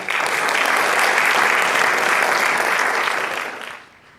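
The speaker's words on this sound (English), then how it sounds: "a round of applause for our dear Krishna for bringing out all these stories" Audience applause at a Bharatanatyam arangetram, a dense, steady wash of clapping from a full hall that holds for several seconds, then tapers away near the end, with no voices over it.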